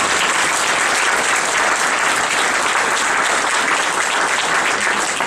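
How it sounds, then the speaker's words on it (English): Steady, loud audience applause closing a question session at a legislative update meeting, continuous clapping from a room full of people with no break throughout. "I'd like to have a nice round of applause for all of these folks."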